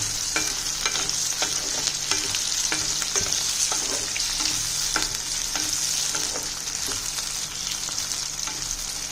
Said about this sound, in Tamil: கொஞ்சம் எண்ணெய் ஊற்றிட்டு தக்காளி வெங்காயத்தை வதக்கலாம்.